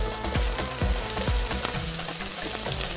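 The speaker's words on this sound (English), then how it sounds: "Kita tumis ni semua." Onion sautéing in a pan until golden, a loud, close sizzle with repeated low knocks and scrapes of a spoon stirring at an uneven rhythm, no voices.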